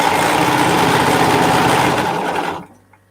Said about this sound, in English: now I'm going to sew multiples of these